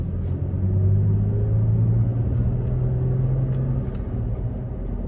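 Manual-transmission Toyota Tacoma engine shifting from first into second gear, a steady close low rumble with a slight dip and change in pitch partway through as the gear changes, no talking.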